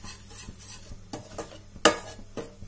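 Wheat flour (atta) being stirred and roasted in a pan for halwa, soft scraping strokes with scattered utensil clicks and one sharp metallic knock, near and fairly quiet, with no voices.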